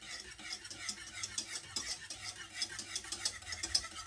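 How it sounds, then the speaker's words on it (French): Butter melting in a pan is stirred with a utensil, giving soft repeated scraping and light clinks at a quiet, steady pace, with a faint sizzle beneath. "Et une touille pour épaissir et faire fondre le beurre."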